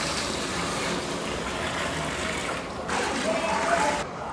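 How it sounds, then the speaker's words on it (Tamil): A continuous rush of water pouring and splashing into a pot for mutton biryani, steady and fairly loud, briefly changing tone near the end. "இப்போ வந்து நம்ம தண்ணி சேர்த்துக்கலாங்க"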